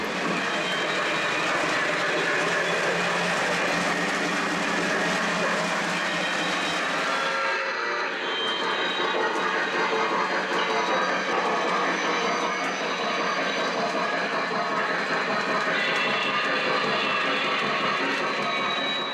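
A continuous, steady rumble and rattle of a model train running on track, with a sustained roar that shifts in tone partway through, no voices.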